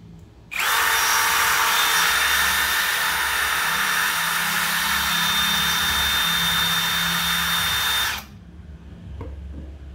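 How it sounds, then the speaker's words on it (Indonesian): A cordless power screwdriver drill runs at full speed in gear setting one, a loud, steady high whine that starts abruptly, holds for about eight seconds close by, then cuts off to quiet room tone. "Wah, ini kalau dipakai untuk penyekrupan pasti aman untuk kepala skrup, tidak akan slack. Oke, speed 1 full speed."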